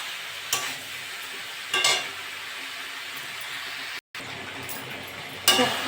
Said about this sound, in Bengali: নেড়ে চেড়ে এটা ভালো করে ভাজবো।